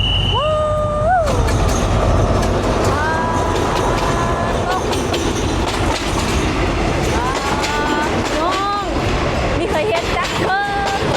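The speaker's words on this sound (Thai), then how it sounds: "รถไฟมาแล้ว รถไฟมาแล้ว" A train rolls into Bang Sue station in Bangkok with steady rumbling and clattering wheels, metallic squeals rising and falling, while people talk excitedly nearby.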